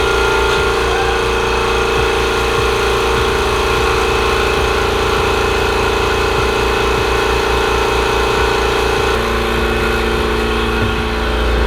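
A Husky air compressor runs and blows air, giving a steady, loud mechanical drone with a low pulsing throb that continues unbroken throughout, shifting slightly near the end.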